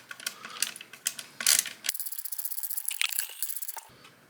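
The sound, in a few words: screwdriver turning a screw during assembly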